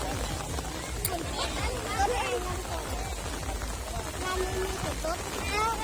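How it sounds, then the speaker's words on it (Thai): Steady rain patters and hisses throughout at an outdoor boat-racing festival in Thailand, with faint voices murmuring in the background. "ฝนตกลงมาเลยเนาะ"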